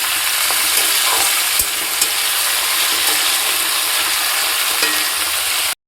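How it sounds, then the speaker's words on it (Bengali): Raw tomatoes fry in a pan with a loud, even sizzle that holds throughout, broken by a few light stirring knocks before cutting off abruptly. "কাঁচা টমেটো যতক্ষণ না গন্ধটা যাবে ততক্ষণ কিন্তু ভেজে নিতে হবে খুব ভালোভাবে"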